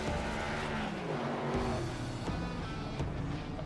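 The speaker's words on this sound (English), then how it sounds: "He's doing some burnouts for us here on the front stretch." A race car does burnouts on the front straightaway of an oval track after the Nostalgia 400, its engine giving a continuous, moderately distant roar with tire noise, steady throughout and heard without speech.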